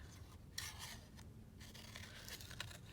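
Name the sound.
cutting out a paper flower with scissors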